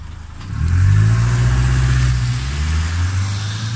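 A bus engine revs up loudly nearby, a deep rumbling drone that climbs after a quiet start, holds steady, and then settles slightly lower while staying loud.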